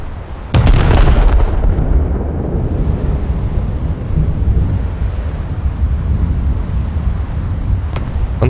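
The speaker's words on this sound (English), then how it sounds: "Something big just detonated on him" A large explosion detonates aboard an enemy warship in a naval battle video game, a sudden loud blast at the start that settles into a sustained roaring rumble with a faint sharp crack near the end.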